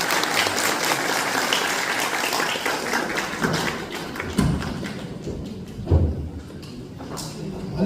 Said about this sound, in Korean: 아버님께 박수 부탁드리겠습니다.